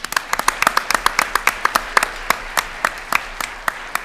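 An audience at a school board meeting applauds student wrestlers with loud, scattered, crisp hand claps at an uneven pace, close and clear, with light crowd murmur underneath.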